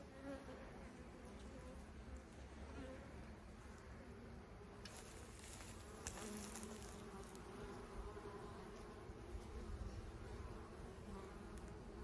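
A dense, steady buzz of many stressed bees at the front of a hive box fills the air up close, a constant droning hum with occasional louder passes of individual insects.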